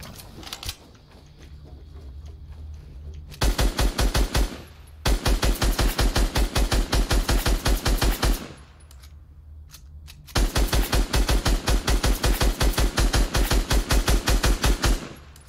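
Rapid automatic gunfire in a shooter video game, loud and close, coming in three long sustained bursts with brief pauses between them and quieter game ambience underneath.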